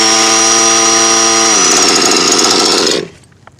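A modified nitro RC car engine runs at a high, steady whine that shifts to a rougher, buzzier tone midway, then cuts off abruptly, leaving near silence.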